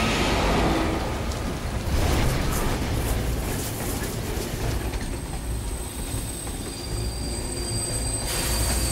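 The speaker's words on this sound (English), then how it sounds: "The train has stopped." A train in the Beyond Two Souls video game rumbles along with a dense, loud roar and rattle, wheels squealing as it slows, then the noise thins toward a quieter hiss as it comes to a stop.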